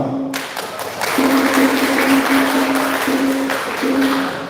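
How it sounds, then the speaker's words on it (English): An audience applauds at a school English debate final in Waikabubak, a dense continuous wash of clapping with a steady hum running underneath. "give applause."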